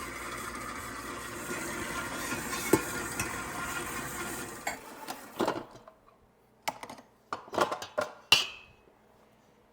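Sugar and oil for maple tallow cookie dough are mixed in a bowl, giving a continuous gritty scraping whir at first. It then turns into sparse, irregular clinks and scrapes with quiet pauses between them.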